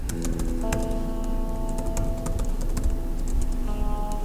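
Rapid, steady typing on a computer keyboard while entering sign-in details, clattering keystrokes running continuously and close over a faint electronic hum, with no voices.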